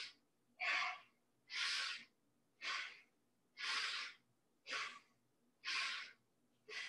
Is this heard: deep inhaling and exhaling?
yes